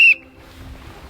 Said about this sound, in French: Attention messieurs, à mon coup de sifflet,